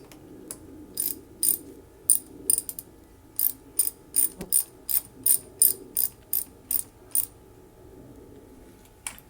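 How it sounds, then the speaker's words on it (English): A nut is tightened down onto a wiring connector while daytime running lights are installed, giving a run of sharp, evenly spaced ratcheting clicks in bursts, close and clear with no talk. "Once we have it in, we'll go ahead and tighten it down."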